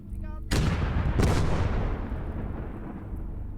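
Heavy gunfire and explosive blasts in the WWII strategy game Gates of Hell, Finland versus USSR: two loud booming bursts roll into a long rumbling, crackling tail of battle noise.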